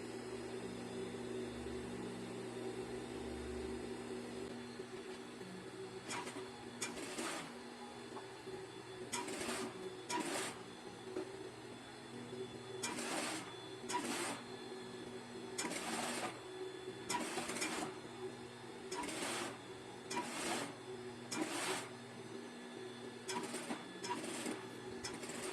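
Sewing machine topstitching fabric pieces for a kitchen set, stitching in short regular bursts separated by pauses, faint and close over a steady background hum.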